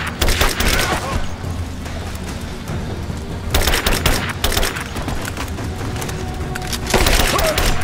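Automatic gunfire in a shooter video game comes in three loud, close volleys of rapid cracking shots, separated by stretches of low, rumbling ambience and scattered single reports.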